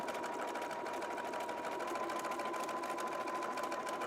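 A sewing machine with a double needle sews a mock cover stitch hem on knit fabric. It makes a steady, continuous motor whir with a fast, even stitching patter, fairly faint and heard alone.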